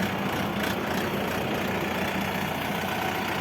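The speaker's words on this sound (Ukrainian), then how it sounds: "Сьогодні відгружаємо тракторець Шифен 404 цешку." A Shifeng 404 four-wheel-drive tractor with forced rear hydraulics idles close by, a steady, even low rumble that holds unchanged throughout, with no voices.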